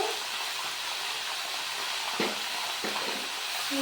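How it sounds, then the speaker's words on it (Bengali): Bottle gourd and chickpeas frying in a pan give off a steady close sizzle and hiss, broken by a couple of brief clatters, with no voices. "ভালো করে ভেজে নেব"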